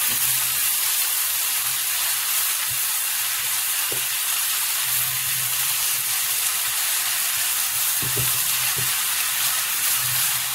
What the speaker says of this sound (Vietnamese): các bạn xào tiếp, xào cho nó chín và nó dính lại với nhau.